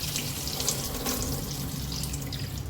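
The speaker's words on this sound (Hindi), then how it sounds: "तो बस ये बर्तन भी धुल ही जाएंगे जल्दी।" Tap water runs steadily into a kitchen sink while dishes are washed, a close, continuous splashing hiss with small clinks and shifts in the flow.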